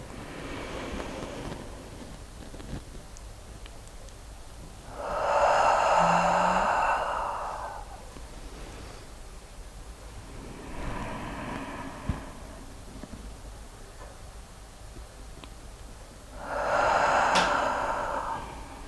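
A person breathing in and out deeply and audibly while lying on a massage table, with two pronounced breath swells separated by quieter breathing, close and alone without talk.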